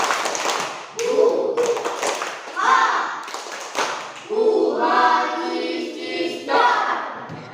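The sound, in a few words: children doing a rhythmic 'spirit clap' in class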